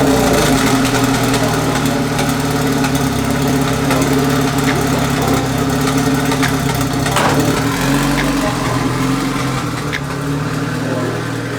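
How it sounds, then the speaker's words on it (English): A 500 WHP turbo Honda Civic engine runs steadily and loudly up close after a cold start, idling with an even rumble and a faint high whine that stays constant throughout. "this car is running fantastic on cold start."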